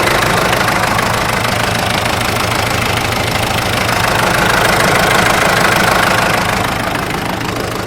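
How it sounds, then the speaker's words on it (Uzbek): A New Holland 5060 tractor engine runs steadily at idle with a rough, knocking rumble, close and loud throughout, with no voices. "Texnikamizni motor qismlaridan ham eshitib turibsizlar"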